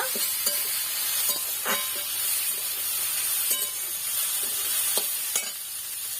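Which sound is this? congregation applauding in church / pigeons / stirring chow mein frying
stirring chow mein frying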